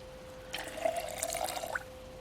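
A container filling with water in the survival game Project Zomboid: a short, close trickling pour lasting about a second, bubbling and gurgling before stopping abruptly, over a quiet steady hum.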